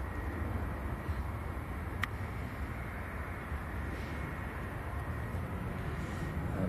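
A plane departing Manchester Airport gives a steady, distant engine roar, a broad continuous rumble that stays level without any voices over it.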